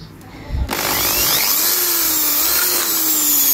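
A power drill starts abruptly and runs steadily, boring a hole for an M5 bolt in a lawn mower carburetor, loud and close with a rising whine and continuous grinding hiss.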